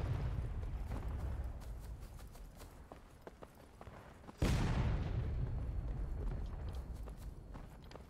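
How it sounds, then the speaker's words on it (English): A cannon blast in the Civil War game War of Rights during a river-crossing battle bursts out as a sudden loud boom midway, followed by a rolling rumble over a busy backdrop of distant gunfire and clattering hooves. "So you got on the cannon explosion also."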